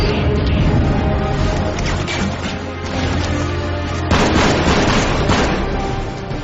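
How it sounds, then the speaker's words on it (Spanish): A dense barrage of gunfire and explosive booms from a roughly ten-year-old shooter video game, loud and continuous with no pauses, growing sharper partway through. "Sí, disparos por doquier."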